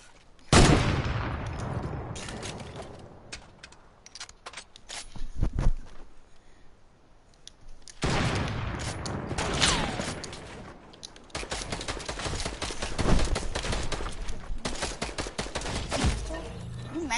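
Bursts of video game gunfire crackle in rapid volleys, some sustained like automatic weapons, separated by short lulls, loud and close, with a player's voice now and then.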